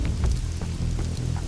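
Rain patters steadily on a bus roof in a tabletop game, a close, continuous wash of drops with a low hum beneath.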